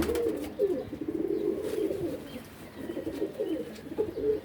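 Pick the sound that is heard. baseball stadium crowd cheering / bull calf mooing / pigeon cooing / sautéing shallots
pigeon cooing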